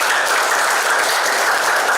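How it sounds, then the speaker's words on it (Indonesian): A seminar audience at a palm-oil token training session claps together in steady, dense applause, loud and continuous throughout with no voices over it. "Tepuk tangan dong buat saya."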